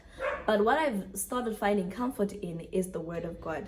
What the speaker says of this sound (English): I apologize for my dog that's barking.